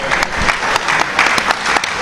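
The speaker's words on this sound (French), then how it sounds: "je vous demande de les applaudir très très fort" An audience applauds two couples at a faith gathering, a brief burst of brisk, dense clapping filling the room without pause.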